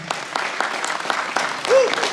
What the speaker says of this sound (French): Mesdames, messieurs, applaudissements pour Anthony Rofidal